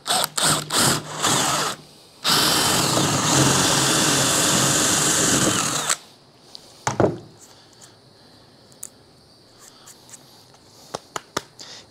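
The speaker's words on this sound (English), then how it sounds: "we'll come back more toward the bottom, and I want to drill back up at an angle" A power drill with a half-inch bit bores an angled hole into wood for a carpenter bee trap, whining loudly for several seconds with a short break. Then the motor stops, leaving faint clicks and handling knocks.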